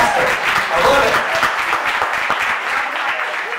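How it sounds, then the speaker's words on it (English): A comedy club audience applauds steadily at close range, a dense wash of many hands clapping that holds for the whole stretch and thins slightly near the end, with no one speaking over it. "give yourselves a round of applause for supporting live comedy."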